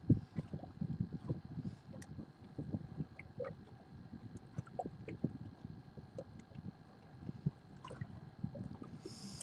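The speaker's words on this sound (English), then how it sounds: "The waves hitting the back of the boat?" Small waves lapping against the back of a fishing boat on a lake, a soft irregular slapping and gurgling over faint wind, no talk.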